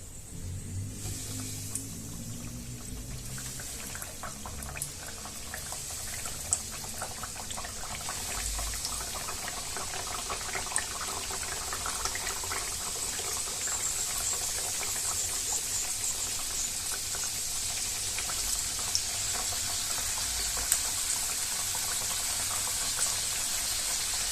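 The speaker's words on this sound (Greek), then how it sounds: "Οπότε θα βάλουμε σιγά σιγά τις δίπλες στο τηγάνι." Pieces of thin Greek diples dough frying in hot oil in a pan, a steady broadband hiss and crackle that holds throughout, growing slightly denser toward the end, with no voices.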